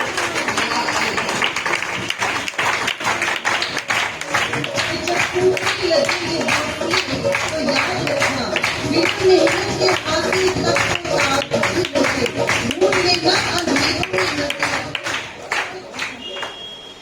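Audience applause welcoming a speaker onto a stage at a business event in Varanasi, a steady dense clapping from a crowd lasting throughout, with a voice over it.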